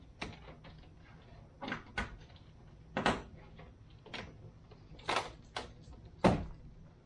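Door trim panel being refitted on a Toyota T100 pickup: a series of sharp plastic clicks and knocks, about eight irregular snaps over several seconds, close and alone.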